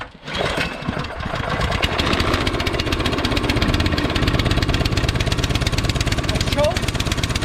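A Troy-Bilt Storm 2620 Powermore 26-inch two-stage snowblower cold-starts at 28 degrees, then settles into a loud, steady running drone with a rapid chugging rhythm and a slight surge, close by.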